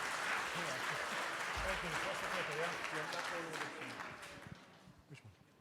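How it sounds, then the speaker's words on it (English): An audience at a pitch competition event gives a steady round of applause that fades out toward the end, with voices talking over the clapping throughout. "Round of applause, please,"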